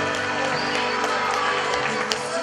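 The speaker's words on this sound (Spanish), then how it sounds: "vamos a despedirlos con un fuerte aplauso de todos ustedes" A crowd of guests at a quinceañera party claps steadily, a dense, continuous wash of applause with some cheering mixed in, filling the room without a break.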